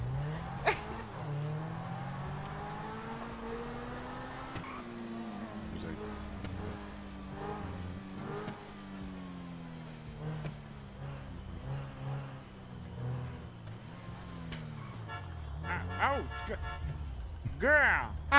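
A Lamborghini drives in a video game, its engine droning and shifting pitch as it accelerates, with occasional tire squeals, while people talk over it throughout.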